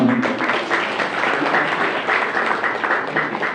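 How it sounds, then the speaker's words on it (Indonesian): Applause from an audience at a training session thanks the speakers, a steady wash of many hands clapping that holds at an even level for a few seconds, fairly close and without talk. "Kita tepuk tangan untuk semua."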